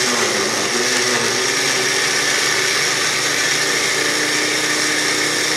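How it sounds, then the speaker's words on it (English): A loud blender runs steadily, its motor whirring and churning a 28-ounce can of tomatoes into a thick purée continuously and up close. "we're just going to dump one can of 28 ounce into the blender and put it on"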